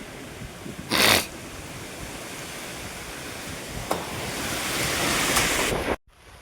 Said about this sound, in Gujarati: ને જો ખતરનાકનો પવન થઈ ગયો છે.